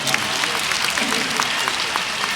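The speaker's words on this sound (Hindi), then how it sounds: "धुआंधार तालियों से आपने मेरा स्वागत किया है" Audience at a Hindi poetry gathering applauds steadily, a dense, even wash of clapping that carries through the whole short stretch without letup.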